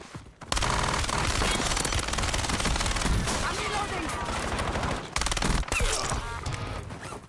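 Bursts of automatic gunfire from the Warzone video game, dense and continuous, loud and close, with a brief lull and then another volley.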